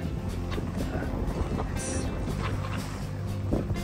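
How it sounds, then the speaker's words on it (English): Sailboat running straight downwind at about 6.5 knots between Naxos and Ios in the Greek islands: a steady broadband rush of wind and water along the hull, with occasional soft splashes, continuous and fairly close. "This is a really nice sail today."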